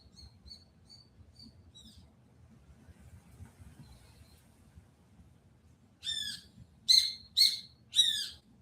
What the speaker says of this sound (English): the birds are here, so these fuckers just love coming around here and making noise